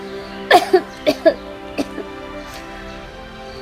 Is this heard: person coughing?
yes